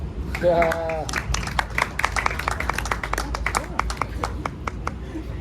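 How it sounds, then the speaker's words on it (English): Crowd applause follows a stand-up comedy set, with sharp individual claps building into dense clapping; a voice speaks over the start and cheers mix in near the beginning. "give her a round of applause."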